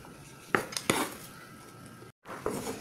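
A knife slices vegetables small for a salad, giving a few sharp close clicks and clatters against a board and dish, with a quiet stretch between and a brief dropout before more tapping.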